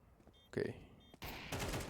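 Gunfire in the Counter-Strike game, a few sharp reports and bursts of shots at moderate level over a busy game soundscape.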